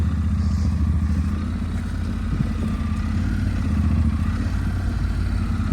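Honda NC750 motorcycle engine idling and rumbling steadily at close range while being maneuvered uphill to turn around on a Scotland tour, a constant low drone with faint clatter and no voices.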